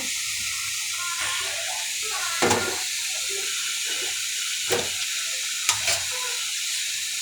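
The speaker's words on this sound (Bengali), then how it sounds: "শাকটা আমি চাপিয়ে দিয়েছি" Greens (shak) cook in oil with onion in a pan, giving a steady, even sizzle with a few sharp pops and clicks rising above it.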